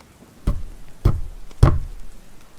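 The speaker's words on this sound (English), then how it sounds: "I heard them pounding on the walls." Heavy pounding on walls, three separate dull thuds about half a second apart, fairly close and loud with quiet between them and no talk.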